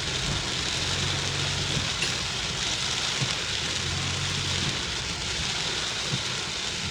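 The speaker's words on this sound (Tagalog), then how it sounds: "Ang lakas ng ulan. Oh, grabe." Heavy typhoon rain pours in a steady, dense hiss that never lets up, loud and close, with no voices.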